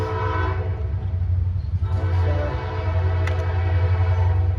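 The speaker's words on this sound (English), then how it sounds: "Oh, here comes another train." A heavy train rumbles steadily nearby, a low continuous drone with its horn sounding through the noise; no one speaks.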